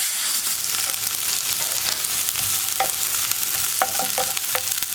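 Green chillies and spices sautéing in a pan: a steady close sizzle broken by repeated spoon scrapes and light knocks against the pan, with no talk.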